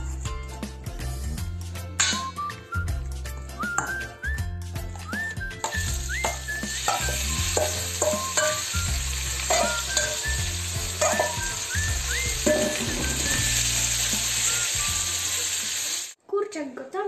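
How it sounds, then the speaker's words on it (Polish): Diced chicken breast seasoned with gyros spice fries in a pan, sizzling steadily and loudly while a utensil stirs it with regular clicks and scrapes, then the sound stops abruptly near the end. "I zaraz zabieramy się za smażenie."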